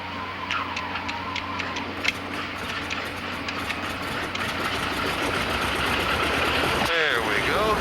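Bushmaster trimotor airplane's number one engine cranking and starting, a steady mechanical rumble with rapid ticking that builds and grows louder, heard from close inside the aircraft.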